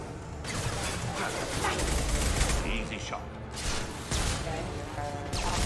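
Bursts of gunfire in the sci-fi shooter Mass Effect 2, clustered volleys and impacts layered with game noise, while a player talks throughout.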